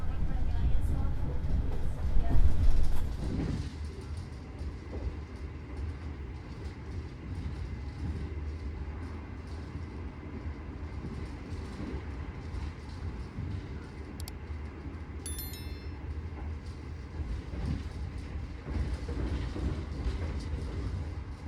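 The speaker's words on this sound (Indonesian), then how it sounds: "Kereta Argo Bromo Anggrek berbelok ke kiri menuju Daop 3 Cirebon" The Argo Bromo Anggrek passenger train rumbles steadily on its rails while curving left, a low continuous roar with a louder swell early on and some faint squeals; a voice talks over it briefly.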